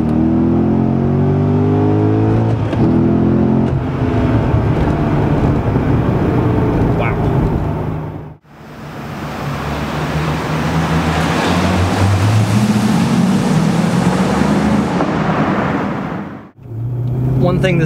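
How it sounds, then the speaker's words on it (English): A Chevrolet Corvette Z06 accelerates hard in first gear, its engine note climbing loud and close in rising harmonic sweeps, with brief gaps where the revs drop between pulls. "I'm going to give you a roll on here in first gear, but I just want to give you an illustration just of what the acceleration is like in the Z06."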